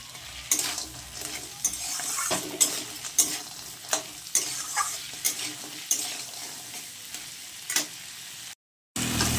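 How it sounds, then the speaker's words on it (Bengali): Chopped onion frying in a pan for a spicy crab curry, with a steady sizzle broken by repeated sharp scraping stirs of a spatula, close and clear, with no voices. "আমি এর মধ্যে একটু পেঁয়াজ কুচানো দিয়ে দিয়েছি। এটাকেও আমি খুব ভালোভাবে ভেজে নেব"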